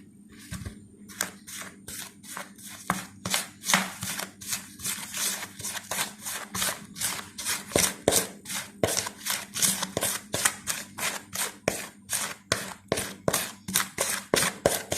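Spice masala being mixed by hand for homemade restaurant-style hot wings, a steady run of quick rubbing, scraping strokes with a soft rhythmic texture, close and fairly quiet, continuing throughout with no talking.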